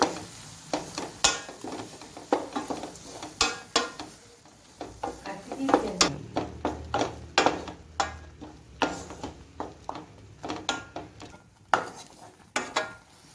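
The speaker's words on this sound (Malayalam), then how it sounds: "നമുക്കൊന്ന് എല്ലാത്തൊന്ന് മിക്സ് ചെയ്ത് കൊടുക്കാം" A spoon stirs ground mustard paste into carrot pachadi in a pot, giving a steady run of sharp clinks and scrapes against the pan with a faint sizzle underneath.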